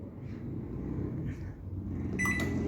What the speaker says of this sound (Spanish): solo el microondas, y ahora vamos a poner a 30 segundos